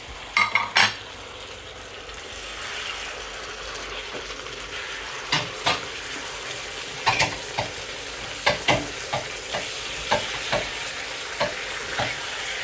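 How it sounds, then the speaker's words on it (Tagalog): Meatballs fry in a pan with a steady low sizzle. Sharp utensil clinks and scrapes against the pan come at irregular intervals over the sizzling, and no one speaks. "Ilagay na natin ngayon yung ating meatballs. Ayan, fry off."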